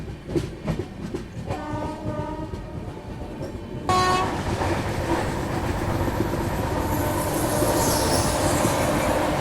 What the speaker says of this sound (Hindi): जयपुर कोयम्बटूर एक्सप्रेस।